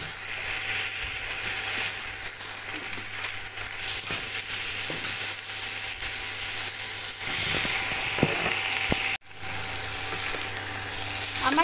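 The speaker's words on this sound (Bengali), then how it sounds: "এটা একটু ভাজা ভাজা হতে দেব" Shrimp with pointed gourd and potato sizzling in a pan, a continuous close crackling fry with occasional clicks from stirring, steady throughout and without voices.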